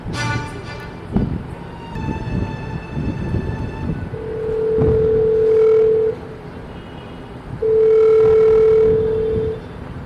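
A phone call to a sleeping woman in Karimnagar district goes unanswered: two long, steady ringback tones sound close and clear, each lasting about two seconds, after a stretch of background noise and clatter.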